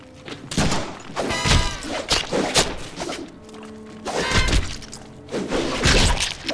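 Deadpool video game combat with bursts of gunfire, sharp impacts and thuds in uneven clusters, loud and up close, with game music and effects layered underneath.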